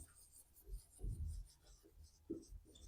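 Chalk or marker scratches on a board during a physics lesson on electric charges, in short strokes and taps scattered across a few seconds, close and fairly quiet, with faint speech-like sounds in the background.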